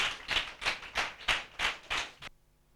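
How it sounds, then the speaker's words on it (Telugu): Guests at a Christian wedding clap to welcome a pastor to the stage: about seven evenly spaced, fairly soft claps in a steady rhythm, then a sudden stop into quiet. "ప్లీజ్ కొంచెం చప్పట్లు కొడదాం"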